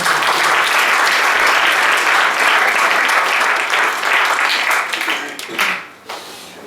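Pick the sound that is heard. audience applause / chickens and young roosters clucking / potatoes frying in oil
audience applause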